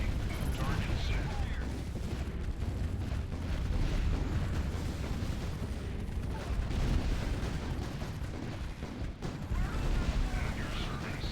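Cannon fire in a naval battle video game, heard as a dense, continuous roar of booms and rumbling blasts throughout, loud and steady, with game voice lines mixed in.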